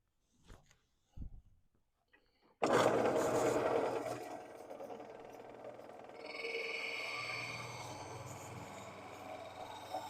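A drill bit held in a Jacobs chuck bores into end-grain wood on a lathe, starting abruptly after a few soft knocks and settling into a steady, close whining grind that rises to a higher scraping tone partway through.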